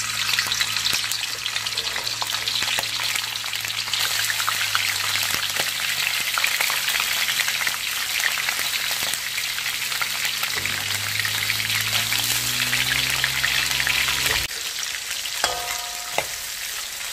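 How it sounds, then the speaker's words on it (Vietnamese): Ba khia crabs frying in a pan of hot cooking oil on a stove, a steady, dense sizzle with crackling bubbles throughout, loud and close, with a few clinks of stirring near the end. "mình cho ba khía vào mình chiên nha."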